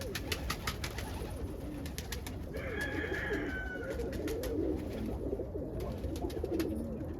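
Roller pigeons in a flight pen coo softly and repeatedly at close range, with occasional wing flutters and light clicks over a steady background hum.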